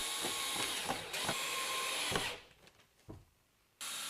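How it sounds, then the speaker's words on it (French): A power drill bores 4 mm pilot holes for screws into wood battens fixed at the wall and roof angle in an attic, a steady loud whirring that drops briefly and then resumes. "Percez des avant-trous du diamètre de vos vis, ici 4 mm de diamètre."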